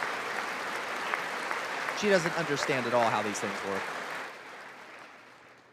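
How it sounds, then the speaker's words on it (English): Applause from the chamber at a State of the Union address, a steady wash of clapping that fades toward the end, with someone talking over it partway through. "She's clapping for herself."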